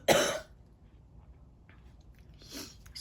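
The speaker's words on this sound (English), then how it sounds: "Sorry about that, I had a cough." A single loud cough up close, followed by quiet background and a softer throat-clearing cough near the end.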